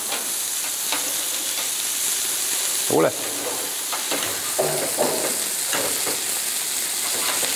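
Food sizzles and crackles steadily in a hot pan, a constant close hiss with a few brief voice fragments and a soft clatter.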